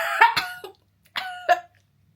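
Several sharp coughs from one person, a tight pair, then a short trailing cough, a pause, and another close pair, loud and near with quiet between.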